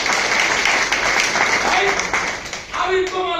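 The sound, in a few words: audience applause at seminar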